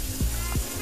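Running tap water rinses a deveined shrimp for baked stuffed shrimp, a short steady splashing stream with two brief louder gushes, close and unaccompanied by talk.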